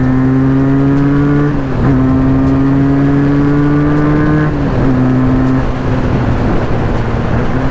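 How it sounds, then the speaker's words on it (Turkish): A loud Benelli 302S motorcycle engine drones steadily, its pitch climbing through each gear and dropping at the shifts, with no voices over it. "Vites düşürürken ki ses ve yükseltirken ki ses yarış motoru gibi."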